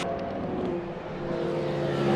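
A race car on a flying lap at the 24 Hours of Le Mans, driven by Sebastian Bourdais, roars past with a steady, loud engine drone that dips briefly and then swells again.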